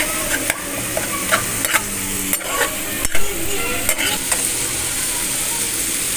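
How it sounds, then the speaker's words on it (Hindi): Chicken pieces sizzling in a spoonful of oil in a pan, a continuous close frying hiss punctuated by several sharp clicks and scrapes of stirring. "एक स्पून ऑयल डालना है और उसमें चिकन डाल"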